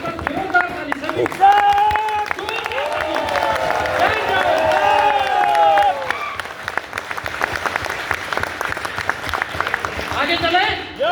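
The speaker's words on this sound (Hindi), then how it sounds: "एक बार जोरदार ताली सभी।" Audience at a business presentation clapping loudly on request, a dense burst of many hands over crowd noise with cheers and whoops, fading into scattered claps while a voice talks over the tail.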